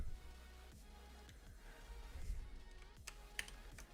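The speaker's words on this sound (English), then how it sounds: "That's when you click the keys, you know." Ducky One 2 Mini mechanical keyboard keys click in an irregular scatter of sharp, close taps over faint background hum, with no talking.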